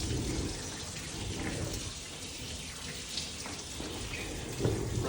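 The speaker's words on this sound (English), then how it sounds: "is just get the hot water going." Hot water runs from a tap at a sink beside a portable dishwasher, a steady, moderately quiet hiss of flowing water with small splashes, no voices.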